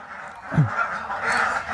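Ducks on a duck farm: one gives a short honking call, fairly close, with a nasal tone and a brief rougher note.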